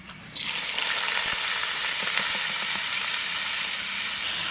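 Bitter gourd (karela) slices hit hot oil in a pan and set off a loud, steady sizzle. It starts abruptly after a brief quiet moment and holds at a dense hiss throughout.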